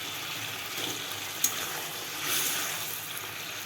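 Kerala-style egg curry gravy made with ground spice paste simmers with a steady bubbling hiss, and one soft plop stands out as an egg goes in.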